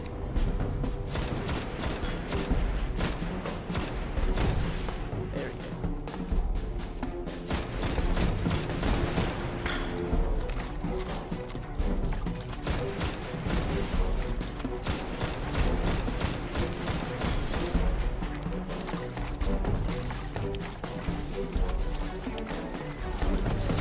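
Dense, rapid gunfire from Destiny snipers in a House of Wolves story mission, a steady barrage of sharp shots that runs the whole stretch at a constant, busy loudness with no clear pauses.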